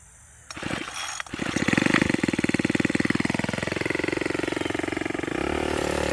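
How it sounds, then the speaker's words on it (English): A sickle mower's small engine cranks and catches, then runs loud and close with a fast, rapid chatter that gradually settles into a steady idle. "I'm going to start off with this sickle mower thing. It's going to get maybe a little loud when we crank it"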